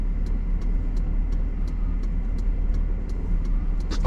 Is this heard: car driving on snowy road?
yes